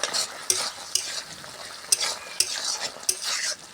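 Pea and potato ghugni stirred in a pan after garam masala goes in, a soft sizzle broken by regular scraping strokes and light knocks of the spoon roughly every half second, close, no speech.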